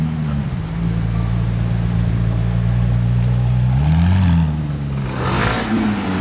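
A McLaren 720S sports car drives past with a steady, fairly close engine drone that swells and climbs in pitch as it accelerates away, with no talking.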